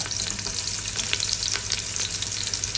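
Chopped onions and garlic fry in a pan with a dense, continuous sizzle and crackle, lightly stirred throughout, cooking the base for a pork ribs mechado.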